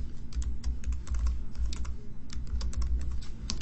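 Someone types a name on a computer keyboard, a quick, irregular run of close key clicks over a low steady hum, with no talking.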